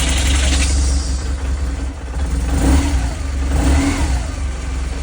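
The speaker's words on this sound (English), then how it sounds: "and then we're gonna start the engine." A BMW GS motorcycle engine, just serviced with fresh oil, oil filter and air filter, starts and runs with a loud, steady, throaty rumble close by, swelling slightly as it revs. No talking is heard.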